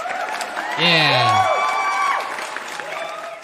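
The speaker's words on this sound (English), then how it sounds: "Let's get some clapping." Studio applause and cheering sound effect cues in with a short whoop-like sweep, then a steady clapping crowd bed runs for a few seconds while someone speaks briefly over it.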